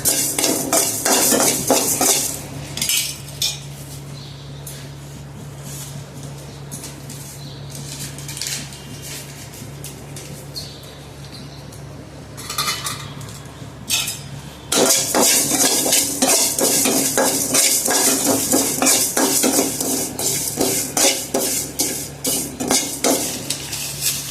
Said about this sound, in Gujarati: ધાણા, જીરું, મેથી આપણે શેકીએ છીએ